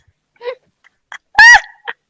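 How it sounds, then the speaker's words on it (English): A single person sneezes once, loud and close, after a few small breaths and short vocal sounds, with near silence around it. "Okay, so sneeze again."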